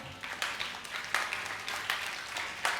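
Congregation clapping hands during a Sunday church service: scattered, uneven claps repeating in small bursts, moderately faint with room reverberation.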